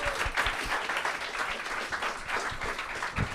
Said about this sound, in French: Est-ce qu'on peut applaudir Marion, s'il vous plaît?